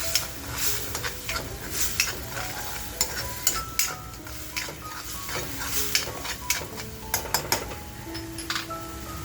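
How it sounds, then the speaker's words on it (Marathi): Coarsely ground coconut masala sizzles and fries in a pan while a spoon stirs and scrapes steadily, with frequent clinks of metal against the pan, for a Malvani-style bombil curry. "मस्त असा मसाला खमंग आपल्याला फ्राय करून घ्यायचा आहे"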